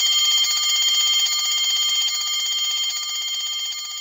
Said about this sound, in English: On pressing the switch, you will be able to hear the bell ringing.